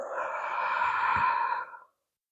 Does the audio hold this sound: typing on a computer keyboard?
no